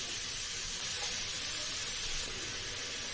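Sliced onions with salt and curry leaves sautéing in a hot pan give off a steady, even sizzle with a bright hissy texture, close and continuous, with no voices.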